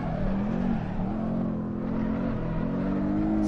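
A turbocharged four-cylinder car engine in the driving game Assetto Corsa during drift practice holds a steady, loud drone whose pitch wavers slightly up and down.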